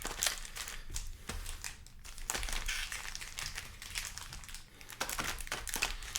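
Foil booster pack wrappers from a Double Masters 2022 Magic draft box crinkle and crackle steadily for several seconds while the packs are handled and shuffled, close and fairly loud with no talk.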